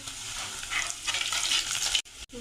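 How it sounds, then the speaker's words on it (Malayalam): Ginger and garlic frying in oil for rambutan pickle, a gentle, even sizzle close by, swelling slightly midway, then cut by two brief gaps near the end, no speech. "ഇഞ്ചിയും വെളുത്തുള്ളി ഇവിടെ ചെറുതായിട്ട് മൂത്ത് വന്നിട്ടുണ്ട്"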